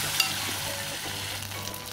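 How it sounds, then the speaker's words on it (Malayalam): Spoonfuls of beaten egg mixture frying in hot oil on a low flame for a Kerala-style egg snack, a steady close sizzle with a brief sharp pop near the start. "ഇങ്ങനെ സ്പൂണിൽ എടുത്തിട്ട് ഇത് നമുക്ക് ഓയിലിലേക്ക് ഇടാം."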